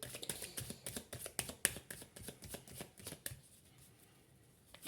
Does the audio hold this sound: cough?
no